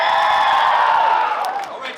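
A concert crowd at an opening-act show cheers with a loud, steady roar of voices, scattered whoops and a few claps, easing off toward the end.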